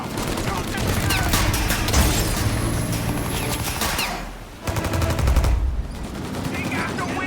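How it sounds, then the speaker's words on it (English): Sustained gunfire in the video game Mafia Definitive Edition, dense overlapping shots and machine-gun bursts with a brief lull before another loud volley, mixed with game ambience and shouted speech. "Shoot the gun!"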